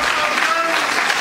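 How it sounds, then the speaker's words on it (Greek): Applause at a PASOK political event, a dense, steady patter of many hands clapping throughout a short stretch, fairly loud and close. "τα μηνύματα του Γιώργου Παπανδρέου και χειροκροτήματα"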